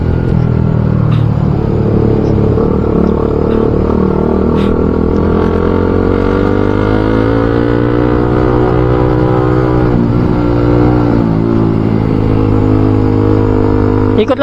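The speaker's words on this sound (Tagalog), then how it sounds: "So, kailangan natin mag-throttle." Manual-transmission motorcycle engine held at a steady loud idle and throttled, its pitch rising and falling as it rides off, a close continuous rumble with no talk.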